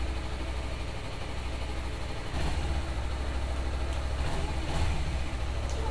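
A Suzuki Inazuma (GW250) motorcycle engine idles steadily at about 1600–1800 rpm, giving a continuous low rumble close by, with no voices.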